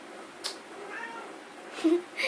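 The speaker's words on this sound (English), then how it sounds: "I think you can see my cat over there" A house cat meows in short calls nearby, with a louder pair of meows toward the end in an otherwise quiet room.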